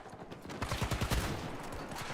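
Rapid gunfire from a Battlefield 2042 multiplayer match, with a dense run of overlapping shots building to a loud, sustained burst before easing off.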